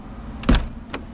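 The door of a Jayco Jay Flight 154BH travel trailer closes with a single solid thud and a short rattle, then a lighter click follows a moment later, close by and alone.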